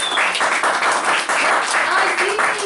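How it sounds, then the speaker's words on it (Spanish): Audience applause at an outdoor book talk in a park: dense, fairly loud clapping that runs steadily throughout, with faint voices mixed underneath. "Así que un aplauso para ustedes."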